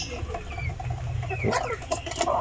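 Free-range mix heritage chickens clucking close by in a covered range, soft repeated clucks and a few higher calls over a low background hum.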